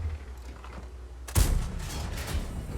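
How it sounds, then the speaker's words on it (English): A Bat.-Châtillon Bourrasque tank in a video game fires its gun in a heavy, booming blast that jolts in suddenly after quieter rumble, followed by a lingering rolling echo. "he's fired both rounds off"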